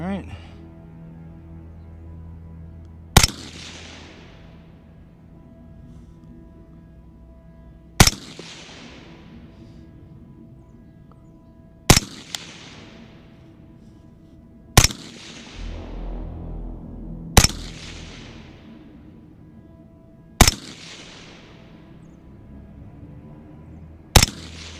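Seven sharp, loud rifle shots from 14.5-inch AR-style rifles firing match ammunition, spaced irregularly several seconds apart, each with a fast crack and a trailing echo over a quiet outdoor range.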